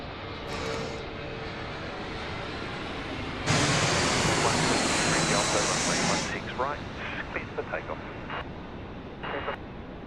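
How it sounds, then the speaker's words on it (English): A Jetstar Airbus A380 roars low overhead on approach to runway 16 left at Sydney Airport at night, a broad engine rumble swelling to a loud rushing peak and then fading, with people talking over it. "That was a Jetstar A380 service just coming in over our heads for a landing there on runway 16 left."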